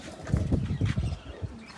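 A large pigeon flaps its wings as it flies out, giving a short burst of close, soft, papery wingbeats that fades after about a second.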